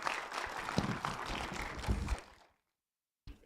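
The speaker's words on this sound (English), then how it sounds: "can you all give everybody a round of applause?" An audience at a trustee candidate election forum gives a round of applause that stays fairly faint and distant, then breaks off into near silence before a short final sound.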